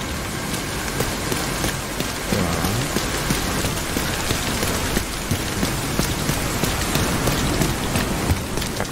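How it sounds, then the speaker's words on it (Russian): In the video game Tom Clancy's The Division 2, steady, dense rainfall pours down continuously at close range, a constant hiss with no voices and a faint low rumble underneath. "Дождь какой-то пошел."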